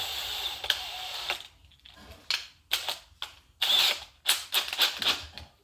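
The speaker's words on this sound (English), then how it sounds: "So what I do first here is grab the drill." A power drill fitted with sandpaper, cleaning metal for welding a custom stinger bumper, whirs in several short bursts separated by brief pauses, fairly close and loud, with no talking.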